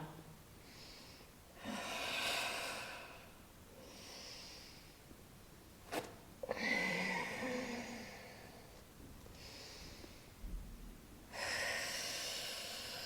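Slow, deep breaths during a yoga stretching flow, long airy inhales and exhales in a steady rhythm, close and soft, with a quiet voice between some of them.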